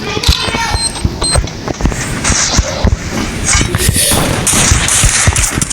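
Rapid gunfire crackles continuously through a Free Fire match, dense bursts of close shots with sharp high clicks over a busy game background, and no clear speech.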